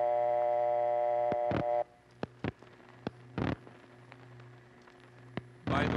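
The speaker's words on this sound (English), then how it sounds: "what you're hearing there is a #1 crossbar subscriber level line" A #1 crossbar telephone switch subscriber line plays back from an old phone recording: a steady multi-tone hum that cuts off, followed by scattered sharp clicks and relay clunks, then a brief burst at the end.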